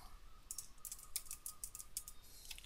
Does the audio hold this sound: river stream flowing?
no